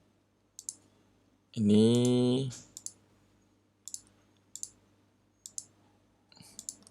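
Computer mouse clicks while code is copied and pasted in a Java programming lesson: sharp, isolated clicks spaced about a second apart, with a short burst of voice partway through.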